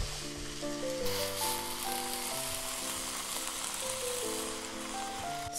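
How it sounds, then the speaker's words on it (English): Steak searing in a hot pan gives a steady, continuous sizzle and crackle, close and moderately loud, with a faint musical tone running underneath throughout. "while we wait for the steak to finish cooking"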